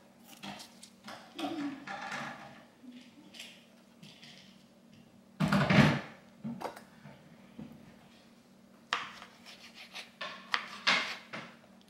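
Knife cutting a vegetable while making a loaded vegetable sauce, soft scraping and slicing strokes in irregular bursts with a louder chop midway, close but faint.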